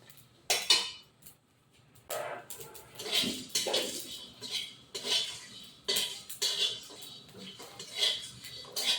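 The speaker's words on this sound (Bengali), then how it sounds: "শুকনো খোলায় আমি এটা ভেজে নেব গোটা মশলাটা" Whole spices, including black peppercorns, dry-roasted in a pan. A metal utensil stirs and scrapes them in repeated clinking, rattling strokes, up close and fairly loud.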